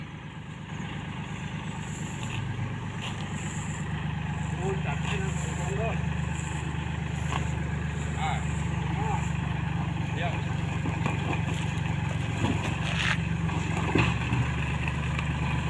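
A steady low engine rumble runs throughout from a 22-horsepower Iseki diesel tractor idling, with faint clanks and voices in the background.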